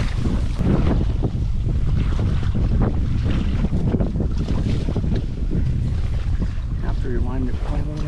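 Strong gusting wind buffets the microphone throughout on a windy duck hunting day, a loud, constant rushing roar with faint voices and a brief whistle-like sound near the end.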